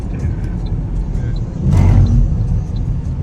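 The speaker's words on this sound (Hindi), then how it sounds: "ये अब गाड़ी क्यों वापस आ रही है?" A car reverses at a toll plaza on the M2 motorway, its engine a loud, close, steady rumble that swells briefly midway, with faint voices in the background.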